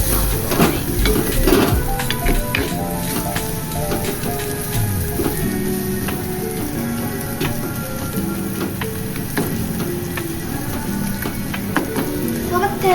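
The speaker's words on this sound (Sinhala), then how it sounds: "මිරිස් කුඩුයි කල්කුඩුයි දාලා අපිට මේක කර කරනවා" Food frying in a pan with chili powder and curry powder, a steady crackling sizzle with light stirring clatter running throughout at moderate loudness.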